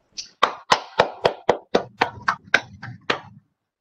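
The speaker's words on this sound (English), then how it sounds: "Needless to say, you heard the applause there for you." Applause from the audience at a corporate governance panel dialogue after a speaker finishes, heard as about a dozen crisp, close claps in an even, steady rhythm before stopping.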